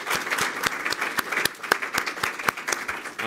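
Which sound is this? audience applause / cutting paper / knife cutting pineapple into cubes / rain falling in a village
audience applause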